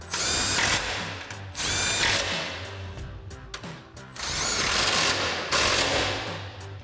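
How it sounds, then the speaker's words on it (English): An impact wrench with a 15 mm socket hammers bolts tight while a front bumper goes onto a 2019-2021 Silverado 1500, in loud rattling bursts of about a second each, several in a row, close up. "Then we can tighten those down using our 15 millimeter socket on our impact."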